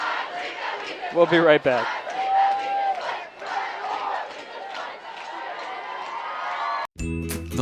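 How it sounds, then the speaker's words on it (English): Football crowd in the stands at a Shelton at Gig Harbor game, jumping and cheering in a loud, continuous roar of voices, with an announcer talking over it before the noise cuts off abruptly near the end. "the crowd starts jumping and hopping and moving my cameras around"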